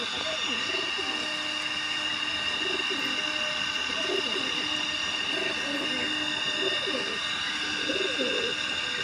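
A pair of high flyer pigeons, a kalshira pair, coo in a steady series of soft, rounded calls, one roughly every second, over a constant hum of background noise.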